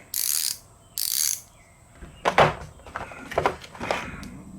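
A 1/4-inch drive ratchet wrench gives two short bursts of rapid clicking, then a series of sharper metallic clacks and handling knocks, close and fairly quiet, without voices.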